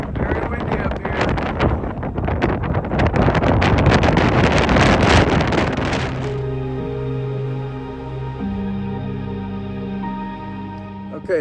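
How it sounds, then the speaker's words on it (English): Strong gusting wind on a high mountain point at Brévent near Chamonix buffets the microphone for about six seconds, then eases into a steadier rumble with faint tonal sounds underneath. "Very windy up here."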